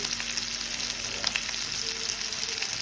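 Ground spices, turmeric and red chilli powder, frying in oil while being stirred for an egg omelette curry, heard as a close, steady sizzle with small crackles and scraping bursts, without speech.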